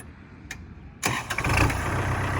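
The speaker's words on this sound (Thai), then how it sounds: "เดี๋ยวเรามาฟังเสียงเครื่องกันเลยนะคะ พร้อมดูระบบไฮดรอลิกของ คูปต้า L4708 DT ตัวนี้กันค่ะ" A Kubota L4708 DT tractor's diesel engine cranks after a short click, catches abruptly and settles into a loud, steady close-up idle.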